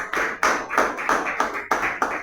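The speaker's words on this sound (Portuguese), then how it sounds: "E as palmas louvam ao Senhor." A church congregation claps in praise during worship, sharp, fairly regular claps, about eight of them in quick succession, close and clear, with no talking over them.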